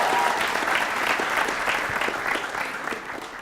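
An audience applauds at a campus pantun event at Poltek LLASDP Palembang, a dense, even wash of many hands clapping that fades slightly toward the end.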